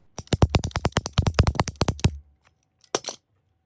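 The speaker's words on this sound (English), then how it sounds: "let's get hold of Jeff and cut this ball open to see exactly what's inside" A Callaway SuperSoft two-piece golf ball being cut open, heard as a fast run of about fifteen sharp rasping strokes close up, then a pause and two brief strokes at the end.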